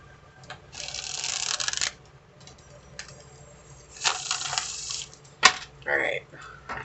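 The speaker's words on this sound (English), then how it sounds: "I'm going to give this one more shuffle." A tarot deck being shuffled by hand, with two or three bursts of riffling cards close by, separated by quiet pauses and a sharp tap near the end.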